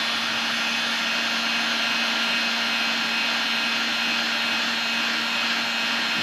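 A heat gun blows steadily while shrinking heat-shrink tubing onto fishing tackle, a constant loud airy roar with a fixed hum that never changes and has no voices over it.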